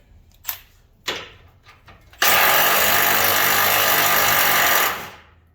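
Working on a 2021-or-later Ford Bronco's wheel, a few sharp clanks come first, then a loud impact wrench rattles steadily for about three seconds, close up, before cutting off.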